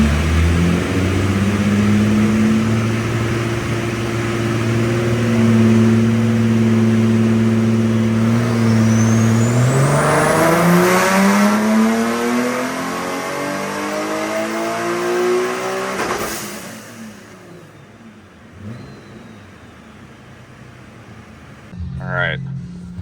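Engine of a modified, roughly 1000 whp Nissan 370Z running a pull on a dyno, loud and close, rising steadily through the revs before cutting off, then winding down with whooshing and fainter noise.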